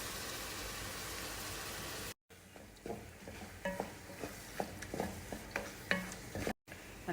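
Two cans of tomato paste go into a hot frying pan and are stirred with a utensil, making a rhythmic series of close scraping strokes over a soft sizzle, with no talk.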